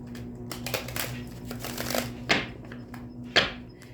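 Rider-Waite tarot cards being shuffled by hand, a run of close papery riffles and flutters followed by two sharper snaps of the deck, with no talking.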